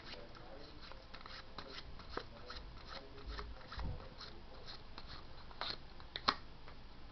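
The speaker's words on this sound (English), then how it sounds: "Then I'll shuffle one more time." A deck of playing cards is shuffled during a card trick, giving quiet, close riffling and rustling with scattered sharp card snaps and a faint low rumble underneath.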